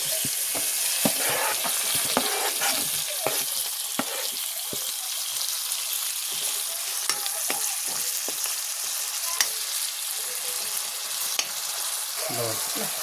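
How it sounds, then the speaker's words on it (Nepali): Tomato goes into reddened fried onion for a Nepali fish gravy, producing a steady, close hiss of frying with scattered crackles and occasional stirring knocks. "अब यसमा प्याज रातो भइसकेको छ। अब गोलबेर राखेँ।"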